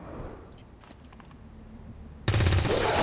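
A single loud gunshot blast in XCOM 2 bursts in near the end after a quieter stretch of faint clicks and ambience, its rough roar continuing to the cutoff.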